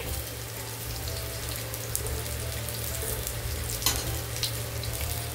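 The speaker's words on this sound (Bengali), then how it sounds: "এখন ওল আর আলুটা ভেজে তুলে নেব, লাল লাল করে ভেজে নেব" Chunks of elephant foot yam and potato fry in oil with a steady, close crackling sizzle and a low hum underneath, and a couple of brief pops.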